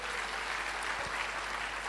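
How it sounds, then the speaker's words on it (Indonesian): Warm audience applause fills a church, a steady dense wash of clapping with no pauses. "Beri tepuk tangan yang meriah betul."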